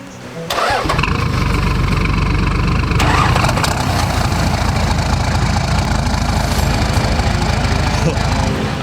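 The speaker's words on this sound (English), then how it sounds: "After letting the cars warm up" Several 4x4 engines idle together at a campsite on a wet morning in the high country, a steady, loud, continuous rumble with a brief rise near the start and no clear speech over it.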